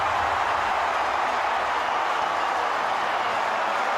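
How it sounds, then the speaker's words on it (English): A large rugby league crowd at Suncorp Stadium roars in a dense, continuous wash of cheering, loud and unbroken throughout. "Listen to this crowd, Sultan."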